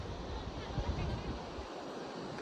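Sea waves wash onto the shore at Dandi beach in Navsari, Gujarat, a steady broad rush of surf mixed with wind buffeting the microphone, continuous and fairly loud.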